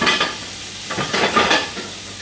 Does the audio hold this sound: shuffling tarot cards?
no